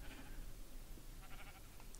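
Sheep bleating in Minecraft, a short, quiet pair of blocky bleats heard faintly over low background noise with no talking.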